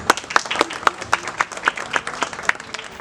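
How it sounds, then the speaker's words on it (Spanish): Audience clapping at a merengue mini concert in Villa Mella, heard as a spread of separate, fairly sharp claps spaced through the moment rather than a dense roar, at moderate level with no talk over it. "para el cual pido un fuerte aplauso"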